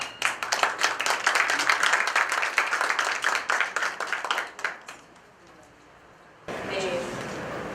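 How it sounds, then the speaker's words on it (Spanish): Audience at the first Peruvian Congress of Crystallography applauds to welcome the first speaker, a dense burst of clapping that fades out after about five seconds, followed by quiet room tone and a soft rise of noise near the end. "vamos a recibir con un aplauso a nuestra primera expositora, Daniela Maciel."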